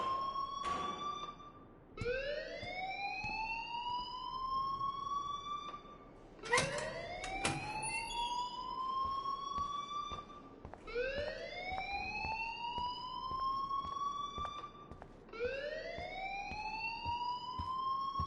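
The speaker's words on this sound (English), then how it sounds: "please turn off that alarm since that's your job" A fire alarm in the Life is Strange video game blares in repeated rising electronic wails, each sweep climbing and holding, cycling steadily and loud with no voices.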